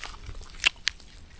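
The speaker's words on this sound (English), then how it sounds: "Granola, crunchy granola peanut butter. I'll give you all a bite." Two sharp, brief crunches close by, a bite into crunchy peanut butter granola, with quiet outdoor trail background and no talking.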